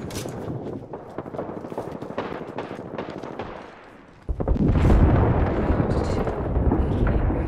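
An artillery strike ability in Apex Legends on PC pounds in with rapid, loud booming blasts, rising into a heavy, continuous barrage of explosions after a brief lull.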